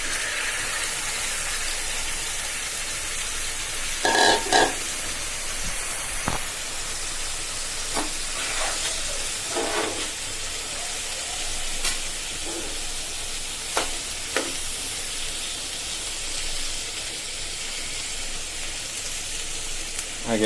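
Turmeric- and salt-coated chopped long beans sizzle and hiss steadily in a hot pan, with intermittent scraping clinks of a spatula stirring them throughout.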